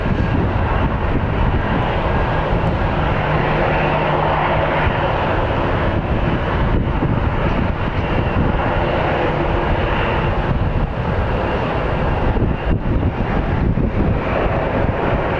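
An ABX Air cargo jet flying for DHL at Phoenix Sky Harbor Airport gives a continuous loud roar mixed with wind buffeting the microphone, steady throughout with no speech.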